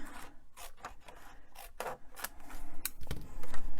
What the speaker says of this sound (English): I'm just going to, for speed's sake, do this with scissors.